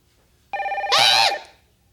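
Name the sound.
telephone ringing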